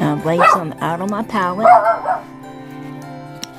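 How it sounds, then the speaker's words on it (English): A dog gives a few short yips and whimpers at close range, mostly tangled up with someone talking over them. "Excuse my dog."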